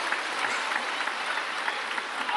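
Applause at a table tennis mixed team world cup match after a rally, steady dense clapping from a crowd, fairly close and even throughout the short stretch.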